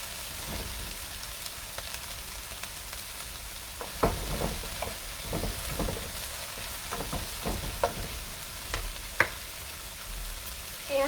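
Grilled chicken and leafy greens are stirred and tossed in a pan, giving a soft sizzle with scattered scraping clicks and clatter at a steady, close, moderate level, no talking.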